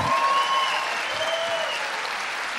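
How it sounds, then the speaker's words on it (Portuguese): A studio audience at a comedy talk show gives dense, sustained applause that stays loud and even throughout, with a faint whistle carrying over the clapping. "eu quero muitos, mas muitos aplausos para Fabrício Vai Cavalo Verdun"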